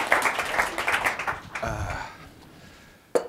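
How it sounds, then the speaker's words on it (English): Conference audience applause for a speaker takes up the first half, fading out into quieter room noise with a low murmur, then a sharp burst returns at the very end. "A bit of round of applause for him."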